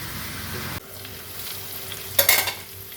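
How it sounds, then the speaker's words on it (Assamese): Potato pieces drop into a pan of pork and taro frying together, a sharp clatter and burst of louder sizzling rising over a steady background crackle, close-up with no talking. "আৰু একেলগতে এতিয়া ইয়াতে আলুকেইডোখৰো দি দিওঁ।"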